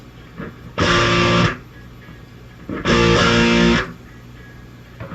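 Two separate bursts of clean electric guitar, each about a second long, strummed and ringing out with a gap of quiet between them, recorded as two different tones for layering.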